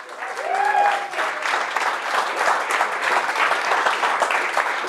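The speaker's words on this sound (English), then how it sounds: "A round of applause for the hardcore." Applause from a seated audience at a Liverpool testing meetup, steady dense clapping that fills the room near and loud for the whole stretch, with a brief whistle or cheer early on.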